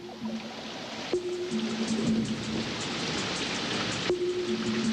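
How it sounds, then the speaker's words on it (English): Steady cool rain falls across the Ngorongoro Crater grassland, a dense continuous hiss of drops on the ground with no voices. "all soak in the cool rain"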